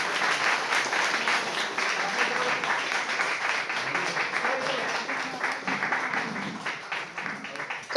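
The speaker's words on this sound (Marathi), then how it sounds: "जोरदार टाळ्या झाल्या पाहिजे." An audience claps loudly and continuously at a Marathi book launch ceremony, dense applause filling the hall from start to finish.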